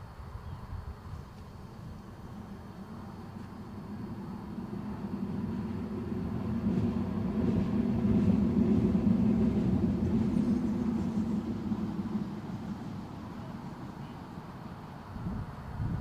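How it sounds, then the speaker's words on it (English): A metro train rumbles steadily in the background beside Newcastle airport, a low continuous roar that swells toward the middle and fades slightly, with wind noise and no speech. "One thing you can hang your hat on is the metro service, as you'll have heard rumbling in the background"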